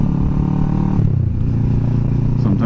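Motorcycle fitted with a Delkevic SS70 slip-on exhaust drones steadily at cruising speed on the highway. It is loud and close, with a low, constant hum and a slight dip in pitch partway through.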